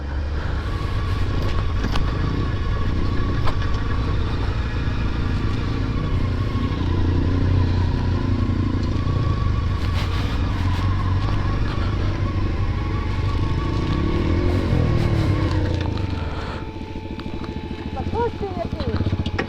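A motorcycle on street tyres rides along a rough rural track, its engine droning steadily and close with rattling and clattering over bumps, easing off near the end; a person talks over it.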